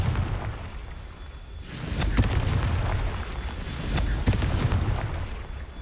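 The Confringo blasting spell explodes in the Hogwarts Legacy video game, a rumbling blast with crackling bursts that swells after a quiet start and recurs as a second sharp hit near the end.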